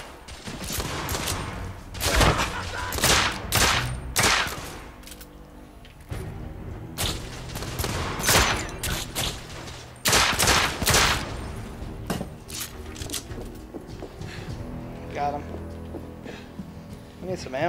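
Sharp, rapid gunshots from a third-person shooter, The Order 1886, come in repeated bursts with brief lulls between volleys, loud and close, with occasional voices between the shots.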